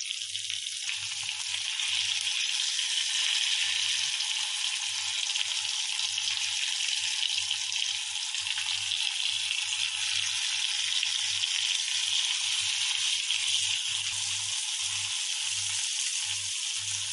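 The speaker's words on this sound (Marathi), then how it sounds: "आता आपण फ्राय करून घेऊ." Bombil, or Bombay duck fish, shallow-frying in a pan in Agri home style, a steady bright sizzle of hot oil close up, with a low intermittent hum beneath it.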